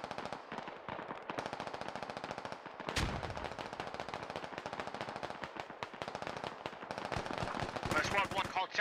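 Sustained machine gun fire rattles through a squad-based military shooter game, dense rapid bursts with a louder single shot, under faint radio chatter.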